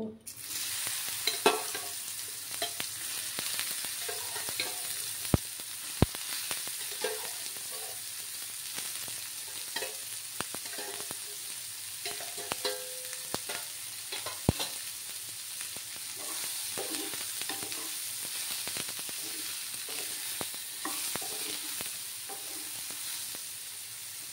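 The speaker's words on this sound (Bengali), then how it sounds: "একটু হলুদ গুঁড়ো দিলাম, দিয়ে আমি এবার সয়াবিনগুলোকে একটু ভেজে নেব" Soybean chunks frying in a pan with salt and turmeric powder give off a steady sizzle, with frequent scraping and stirring clicks close by throughout.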